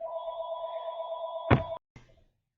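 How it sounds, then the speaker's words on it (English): A telephone rings with a steady electronic tone in a quiet room, followed by a couple of soft thunks as it is picked up. "There goes my phone."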